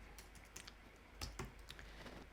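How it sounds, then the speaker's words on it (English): Fingers type on a computer keyboard while code is written for a Rails 7 app, scattered close key taps with a few heavier clacks, and no one speaking. "see what I mean about typing?"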